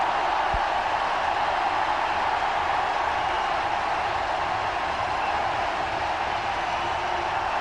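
A packed cricket crowd in a Chennai stadium cheers in a loud, sustained, broadband roar that holds steady without breaks.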